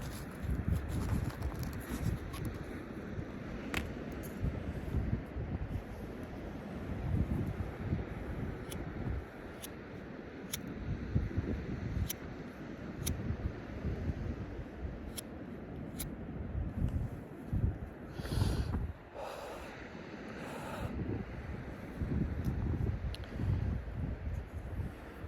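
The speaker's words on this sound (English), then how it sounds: "Fucking wind's so strong." Strong wind buffets outdoors in Japan, a continuous low rumbling roar of gusts against the microphone with faint patter and rustle, steady throughout with occasional sharper bursts.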